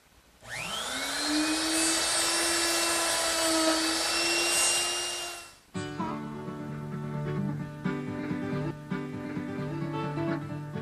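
A router fitted with a 1/4-inch Roman ogee bit cuts a profile into a kitchen hutch shelf on its first of two passes, a loud, steady high whine for about five seconds before it stops and other shop noise continues.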